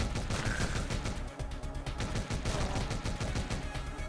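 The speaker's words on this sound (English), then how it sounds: "I think it's a grenade launcher" A grenade launcher in the Omega Strike video game fires in rapid repeated bursts, a dense run of sharp shots and blasts over busy game sound.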